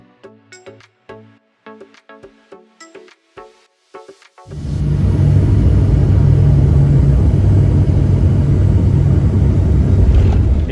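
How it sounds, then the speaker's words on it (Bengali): A US-Bangla passenger airliner landing at Sylhet's Osmani International Airport, heard from inside the cabin: a few seconds of sparse clicks and knocks, then a sudden loud, sustained engine and runway roar that holds steady to the end. "এইমাত্রই আমাদের বিমানটি ল্যান্ড করলো সিলেটের ওসমানী ইন্টারন্যাশনাল এয়ারপোর্টে।"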